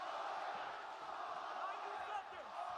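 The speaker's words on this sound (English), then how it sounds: "Crowd getting behind Holloway here late in round 2." A fight crowd roars and cheers steadily late in the second round of a Max Holloway bout, a broad distant swell of massed voices with no close speech.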